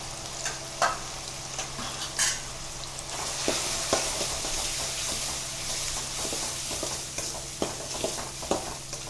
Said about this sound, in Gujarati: અને આપણે 5 મિનિટ માટે સાતળશું.